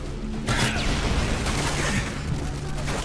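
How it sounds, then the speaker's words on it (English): Gunfire in Call of Duty: Modern Warfare 2 online multiplayer, a continuous loud barrage of rapid shots and crashing impacts filling the whole moment without a break. "who's shooting me?"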